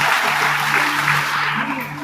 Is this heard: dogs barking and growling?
no